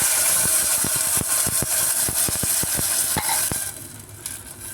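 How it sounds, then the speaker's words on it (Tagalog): Sardines sautéing with onion and garlic in hot oil, a close sizzle broken by a run of sharp, rhythmic clacks of a utensil against the pan, the frying hiss easing toward the end; no talk. "igigisa lang natin siya ng konti"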